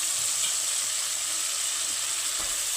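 Eggplant pieces sizzle loudly in a pan of hot oil with turmeric, a dense, continuous hiss heard close up, with a faint stir or scrape near the end and no talking.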